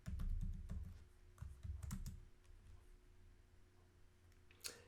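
A password is typed on a computer keyboard during a Python package install: a close, fast burst of clicky keystrokes for about two seconds, then a quiet pause and one final key press.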